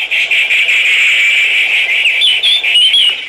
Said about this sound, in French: C'est pas les oiseaux, ce sont les cigales.